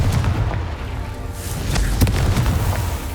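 The Confringo fire-blast spell in the video game Hogwarts Legacy, loud booming blasts with crackling debris and a heavy low rumble, several hits in quick succession over dense game noise.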